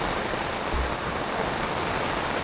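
Steady rain pours down as a continuous dense hiss of drops on surfaces, moderately loud and even throughout with no voices, heard around a moored boat.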